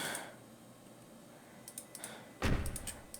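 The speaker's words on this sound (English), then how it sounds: "So you can see you can open the doors." Police car doors opening in the EmergeNYC video game, a faint soft click followed by a louder, brief clunk and rattle of the door latch near the end, heard alone.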